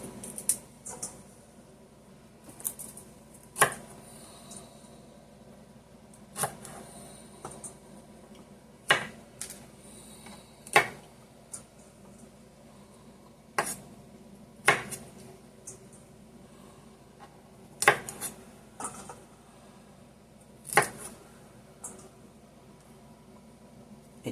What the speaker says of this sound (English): Just cut off all the thick parts of the stem there. And just break your broccoli down.